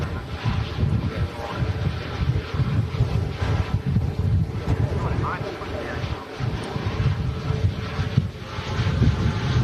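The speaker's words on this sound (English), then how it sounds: "Wind is, getting pretty gnarly now" Strong gusty wind buffeting a microphone at an outdoor plane-spotting spot, rumbling in uneven surges and low blasts that rise and fall, with a voice talking over it.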